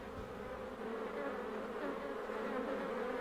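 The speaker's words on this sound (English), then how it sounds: "the scout bee reveals the kind of nectar it has found simply by passing out small" A scout bee buzzes steadily at close range, a continuous droning hum with no pauses, heard alone without any voices.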